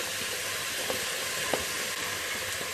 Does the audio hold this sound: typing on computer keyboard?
no